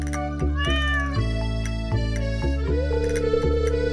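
A stray cat in the farming game Stardew Valley meows repeatedly over upbeat game music, several clear rising mews standing out in the foreground.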